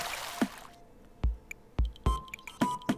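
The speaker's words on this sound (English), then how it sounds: "Fill it up with water from the tap here." Watering can filled from a tap in the farming game Ooblets: a few soft splashy drips and squishy liquid plops at irregular intervals over quiet background.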